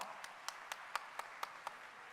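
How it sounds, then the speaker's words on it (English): A few sparse hand claps from the audience at a school annual day, about eight evenly spaced claps, quiet and thin rather than a full round of applause. "Can I have a bigger round of applause?"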